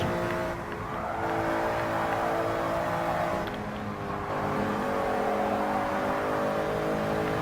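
Race car engine in Gran Turismo Sport holding a steady high drone, with the pitch shifting as gears change. It stays loud and close, with faint tire noise underneath.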